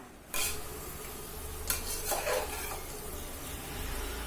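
Vegetables for veg biryani fry in a pan with a steady sizzle. After a sudden start, a spoon stirs and scrapes against the pan several times, close and moderately loud, with no speech.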